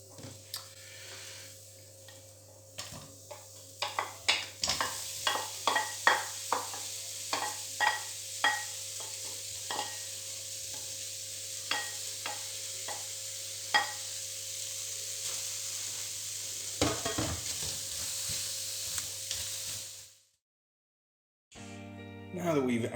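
Onions frying in a pan hiss steadily under frequent clacks and scrapes of a utensil stirring, then a brief silence and a few final clicks.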